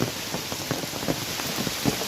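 Rain pours steadily in Gir, a dense hiss of falling water with scattered drop patters on surfaces, heard alone without voices.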